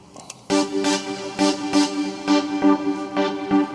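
A synthesizer lead preset called Follow plays a bright, rhythmic line of repeated notes, each pulse sharply attacked with sustained tone, loud and alone after a brief quiet start.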